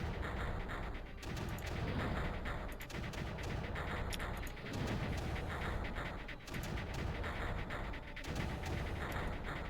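Mortars and blasters fire nonstop in the video game Creeper World, producing a dense, crackling barrage of overlapping shots and thumps with occasional short gaps.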